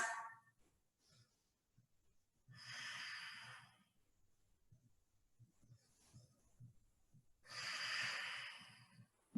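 Slow, deep breaths during a yoga triangle pose, with two long airy exhales a few seconds apart and soft breathing between them, close and quiet with no talking.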